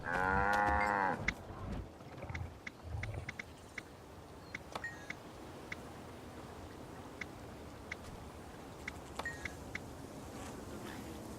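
Cattle moo in the video game Guild Wars 2, one long loud low moo at the start followed by a couple of shorter grunts, then soft game ticks and beeps over a steady background.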